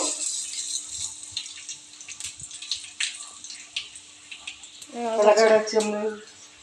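Mustard seeds crackle and spit steadily in hot oil, a dense bright spatter that swells louder near the end while a voice speaks briefly.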